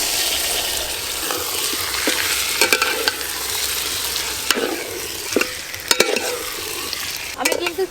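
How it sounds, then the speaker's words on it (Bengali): Masala-marinated chicken frying in a pan for chicken biryani, cooked without added water, with a loud continuous sizzle and repeated scraping stirs and clatters of the spatula. "এবার আমি মশলা মাখানো চিকেন দিয়ে দেব।"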